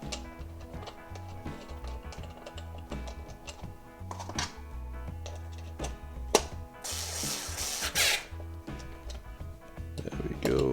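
Screws being tightened on wall spacers for MFG Crosswind V3 rudder pedals, with close ratcheting clicks and light metallic handling over a faint background tone, ending in a brief louder rasp.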